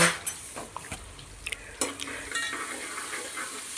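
Curry leaves and asafoetida sautéed in a pan give a loud, close run of irregular spatula scrapes and metal clinks over a continuous sizzle.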